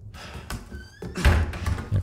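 A door swinging shut with a heavy thunk in the Resident Evil 4 Remake video game, a couple of dull knocks and thuds at close range, with no talk over them.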